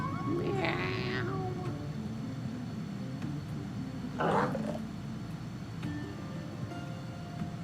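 Two short cat meows from Final Fantasy XIV, one early and one midway, brief and moderately loud over a low continuous hum.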